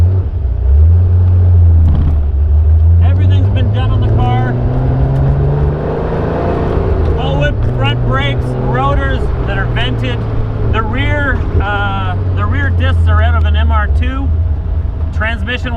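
A 1959 Devin C sports car with a freshly rebuilt engine drones steadily while driving, a loud low engine hum rising and falling with revs throughout, with someone talking over it for much of the time.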